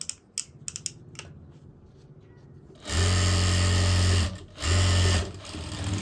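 A sewing machine stitches a sleeveless blouse in two loud, steady runs with a short pause between them, after a stretch of light clicks and fabric handling.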